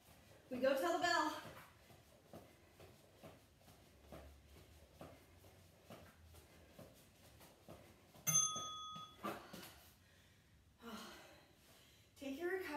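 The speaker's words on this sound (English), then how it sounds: "We go till the bell." A workout interval timer bell rings once partway through, a bright sustained metallic tone, with heavy breathing, sighs and gasps from exercise around it.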